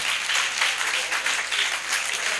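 A church congregation applauds and cheers for Jesus at a French-language service, a steady, dense wash of clapping from many hands filling the room without a break.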